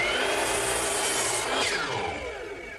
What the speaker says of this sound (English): I'm going to cut these pieces in half.